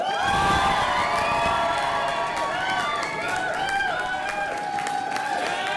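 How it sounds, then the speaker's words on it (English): A cabaret show audience in Cardiff cheering and whooping loudly and continuously, with high whistling whoops and shouts rising over a dense crowd roar close by. "Just go wild with cheering and whooping."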